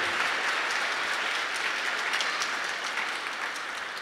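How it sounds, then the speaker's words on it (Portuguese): A church congregation at Sunday Mass breaks into a round of applause, a dense, steady wash of clapping hands at moderate volume, continuous and without voices. "Para você também uma salva de palmas"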